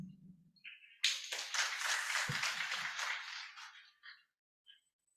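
Crowd cheering and applause for the Minister of Kenya at a Regional Nile Day 2024 ceremony, a dense wash of clapping and shouts that swells suddenly, holds for about three seconds, then fades out into quiet.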